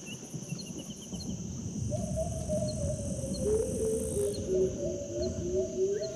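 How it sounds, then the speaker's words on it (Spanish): Amazon rainforest near Belém do Pará, Brazil, fills the air with a dense, continuous drone of insects under high chirps, while a clear bird whistles a sustained, wavering call in the middle distance. "Sabremos decir que esto es una selva solamente por sus armonías"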